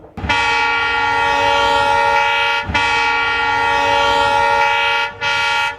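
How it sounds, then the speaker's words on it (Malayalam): A loud train horn sounds close by: two long sustained blasts followed by a brief short one. "രണ്ട് വലിയ ഹോണടിയും ഒരു ചെറിയ ഹോണും കേട്ടാലോ"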